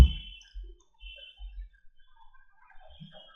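Sparse, faint clicks of someone typing on a computer keyboard while entering a message into an online cipher tool; a few soft keystrokes in quiet surroundings.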